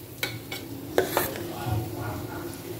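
A spoon scrapes and knocks against a pan as leftover rice is mixed into prawn and chicken pulao, giving a few sharp clinks over a low, steady sizzle.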